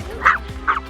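Dogs out on a walk at Cramond, two small ones and a big blind one, let out two sharp, close yapping barks about half a second apart, with no talking over them.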